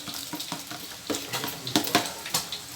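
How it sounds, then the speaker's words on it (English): Rice is stirred in a cooking pot while it parboils, making close, repeated scraping and swishing strokes with a faint sizzle underneath. "So I'm going to stir it."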